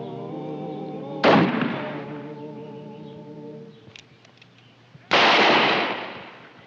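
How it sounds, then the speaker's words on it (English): Two loud gunshot blasts, each booming sharply and then decaying, in a western television shootout, separated by a few seconds over a sustained musical drone and faint clicks. "When I raise my gun, you start a firing."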